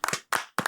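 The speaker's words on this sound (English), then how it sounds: "Oh, I meant to click the applause button" A short applause sound effect triggered by a button: three quick, loud bursts of clapping, each cut off abruptly, with no voices.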